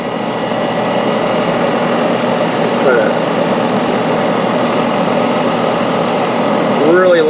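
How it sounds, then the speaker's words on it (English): A ventilation fan runs at a steady, loud broadband hum during airbrushing of a 3D-printed barrier part, with faint brief tones and no clear speech. "I'm going to turn the fan up a little bit because this stuff is not good to breathe in"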